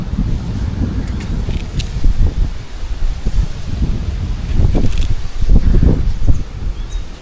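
Steady wind buffeting the microphone with gusty rumbling and rustling in an outdoor carrot garden, continuous throughout with no voices.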